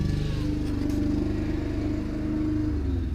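A car, an S13, idles and revs as it pulls up, a deep throbbing engine note with rapid low pulsing, close and steady throughout the short stretch.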